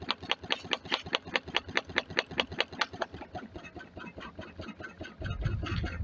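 A Stirling engine heated by a rocket stove runs with a rapid, even slapping of its diaphragm, about four beats a second, that fades away midway, leaving a softer hum and a low rumble at the end.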